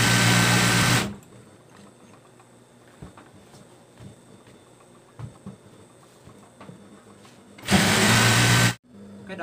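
An electric sewing machine stitches a baby blanket in two loud, steady bursts, one at the start and one near the end, with quiet handling noises and soft talk in between.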